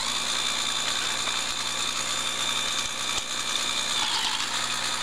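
A Lego shredder driven by an XL motor grinds tinfoil with a steady whirring motor drone and gear hum, constant and close throughout, with no one speaking.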